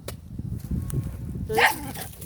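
A dog gives a short, close bark or yip near the end, over a low rumble of background noise and movement in a home setting.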